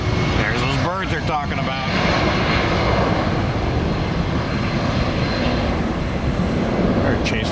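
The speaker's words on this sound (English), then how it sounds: "We're chasing the 7-5 down the runway." Boeing 757 jet engines roaring on an airport runway, a loud continuous engine rush filling the whole stretch while a person talks over it early on.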